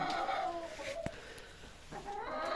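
Young chickens cluck and chatter nearby in overlapping short calls, with a sharp click partway through and a faint background hum.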